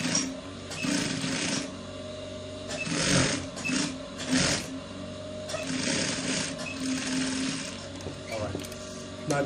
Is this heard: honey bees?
no